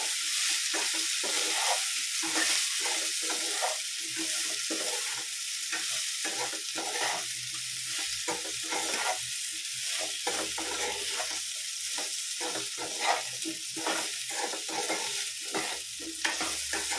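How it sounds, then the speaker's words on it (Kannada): Cassava pepper fry with garlic being stirred in a pan, a continuous close sizzle broken by frequent scraping strokes of a spatula, steady and loud with no talking. "ಚೆನ್ನಾಗಿ ಒಂದು 2 ನಿಮಿಷ ಮಿಕ್ಸ್ ಮಾಡ್ಕೊಳ್ಬೇಕು."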